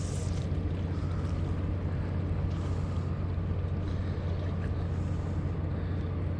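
Steady low engine drone of boats passing a fishing pier, continuous and fairly close, with wind noise and water sounds mixed in, no talking.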